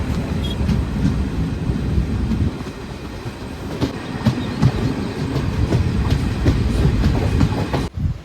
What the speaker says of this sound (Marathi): तिकडून बघूया कुठली ट्रेन येते